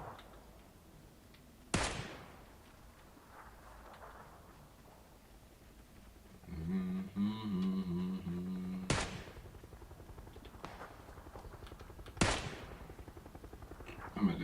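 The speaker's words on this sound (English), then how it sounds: "I heard gunfire" Distant gunfire in the battle royale video game PUBG: three sharp isolated shots spaced a few seconds apart over quiet ambience, with a brief stretch of game music or muffled sound between them.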